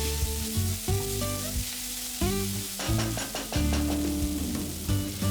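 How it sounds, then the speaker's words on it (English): Chopped tomato and green chilies frying in a pan, a continuous close sizzle with occasional stirring; background music runs throughout. "Then add 1 tomato chopped, add 2 green chilies and fry it until the tomato is nice and soft."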